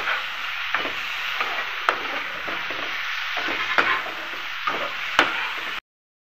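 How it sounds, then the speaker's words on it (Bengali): Steady sizzling of prawns frying in a pan, with a few sharp clinks of a utensil against the pan spread through the clip. "আর একটু ভেজে নেব।"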